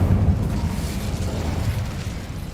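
The Incendio fire spell is cast in Hogwarts Legacy, giving a low, roaring burst of flame that rumbles steadily with a dense whooshing crackle and no talk.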